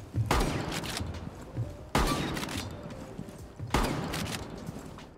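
Three spaced shotgun blasts in Rainbow Six Siege ring out sharp and booming, each trailing off in a short decay before the next, with no voices.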